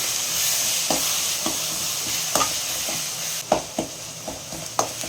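Tomato masala, cooked down until the oil separates, sizzles steadily in a pan while a spoon stirs it in several distinct scraping strokes spread through the sizzle.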